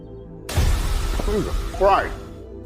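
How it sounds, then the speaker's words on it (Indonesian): A bird crashes into a glass window in a luxury house: a sudden sharp impact bursts in after silence, followed by bright, sweeping squawk-like calls, loud and close. "burung yang menabrak kaca ini tentunya membuat Jim sangat terkejut"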